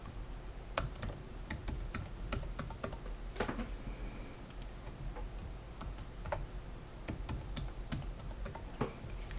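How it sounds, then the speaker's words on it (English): A password being typed on a computer keyboard: crisp, irregular key clicks in quick bursts, close and clear over a low steady background hum. "And then you're going to enter your password"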